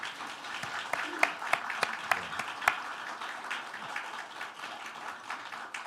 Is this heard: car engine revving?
no